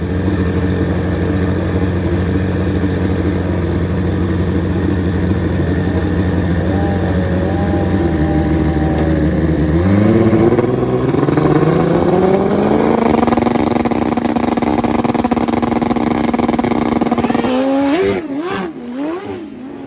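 Super stock drag racing motorcycles, one ridden by Streaker, launch down the strip with a loud roar that climbs through rising gear shifts at close range, then fades toward the end.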